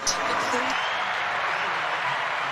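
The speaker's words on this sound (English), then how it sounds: "Yeah, round of applause." A round of applause on a studio podcast set, a dense even wash of clapping at steady loudness throughout, with faint voices mixed in.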